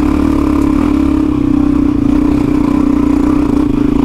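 A big bore motorcycle engine runs on a rough Victorian High Country trail, producing a loud, steady, close-up drone that holds without a break, with no talking.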